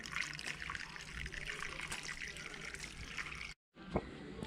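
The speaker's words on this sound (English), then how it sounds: "Now we're fixing to pour the still water in the coolant system" Distilled water trickles and pours steadily into the coolant system of a 2005 V-Max motorcycle, close and continuous, with a brief break near the end.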